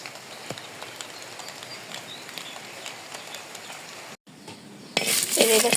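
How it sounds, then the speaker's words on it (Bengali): Jackfruit seeds fry in a pan with a steady, close sizzle and occasional clinks of stirring utensils; after a brief pause near the middle, the frying and stirring return noticeably louder. "তো কাঁঠাল বিচি ভেজে নিয়েছিলাম,"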